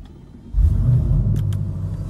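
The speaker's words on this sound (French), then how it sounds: "Et quand je la démarre, écoute le restart." An ABT-tuned Audi RS6 V8 starts up close by, with a brief crank followed by a sudden deep, loud rumble that settles into a heavy, throbbing idle.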